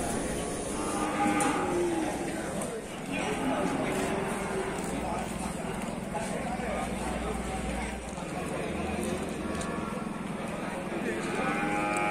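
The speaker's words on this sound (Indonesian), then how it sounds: "Di sini kita juga menemukan sapi Brahman." Cattle low and moo repeatedly amid the steady hubbub of a crowded livestock market, with people talking nearby.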